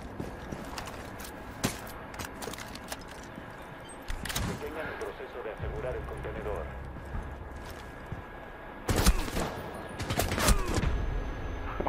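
Gunfire in the Rainbow Six video game, with scattered bursts and single shots that sometimes cluster into rapid volleys, alongside footsteps and other game effects, at moderate loudness under ongoing background activity.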